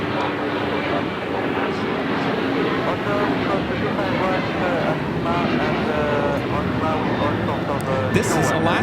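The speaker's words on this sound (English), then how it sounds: "This is Alaska Airlines 1442 taking off to Zihuatanejo on the 737-900ER." An Alaska Airlines Boeing 737-900ER taking off, a dense continuous jet roar with rising engine tones, close and loud, with talk faintly mixed in.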